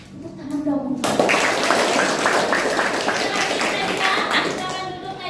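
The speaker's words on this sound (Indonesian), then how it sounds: "Tepuk tangan dong." A classroom of children claps together in rhythmic unison, a loud burst that starts sharply after a brief quiet moment and carries on steadily, with kids' voices mixed in.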